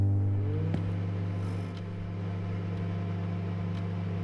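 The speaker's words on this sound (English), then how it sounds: "The microwave is always just super loud." A microwave oven hums steadily and loudly while warming food in a convenience store night-shift video game, a constant low drone with a faint click near the start and no talking.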